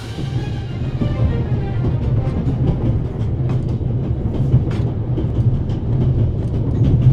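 A moving train in The Raven Remastered video game rumbles steadily with a low continuous drone and faint clickety-clack, heard close and even throughout with no talk.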